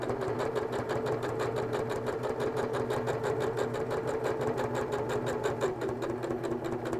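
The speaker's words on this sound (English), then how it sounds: "Then I'm going to back stitch just to give that a little more strength. Then I'm stitching all the way down" A sewing machine stitches steadily along a seam of a beginner's fabric popcorn bag, a fast even mechanical chatter running continuously at close range with no pauses.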